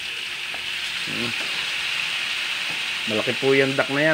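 Boiled duck sautéing in a pan for coconut-milk duck adobo, a continuous hiss and sizzle beneath someone talking at the start and again near the end.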